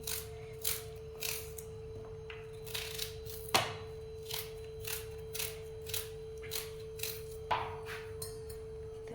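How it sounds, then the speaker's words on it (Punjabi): A knife slices two onions lengthwise on a board for a sweet potato sabzi, making steady, evenly spaced taps about every half second over a constant low hum, with one sharper knock partway through. "ਦੋ ਪਿਆਜ਼ਾਂ ਨੂੰ ਆਪਾਂ ਇਸੇ ਤਰ੍ਹਾਂ ਹੀ ਕੱਟ ਲਵਾਂਗੇ ਲੰਬਾਈ ਦੇ ਵਿੱਚ"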